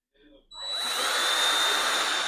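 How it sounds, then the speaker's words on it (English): A power drill driving the last screws into a wall decor piece, a faint handling noise followed by the motor starting up and whirring loudly and steadily up close. "We get these last couple of screws in,"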